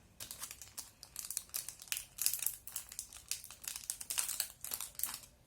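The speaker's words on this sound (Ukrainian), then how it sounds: "Сьогодні я розпечатаю кілька пакетків з Брайтом." Crinkly foil packets being torn and handled up close, a steady run of rustling, ripping bursts with no talking.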